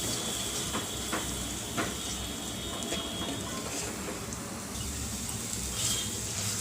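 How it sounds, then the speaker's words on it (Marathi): A ground masala of fresh coconut, onion and ginger-garlic frying in oil for a prawn curry gives a steady, moderately quiet sizzle throughout, with a few faint clicks of stirring and no talking. "आणि हाही आपण तेलामध्ये व्यवस्थित मिक्स करून घेऊया।"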